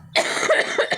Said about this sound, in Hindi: एक तो खांसी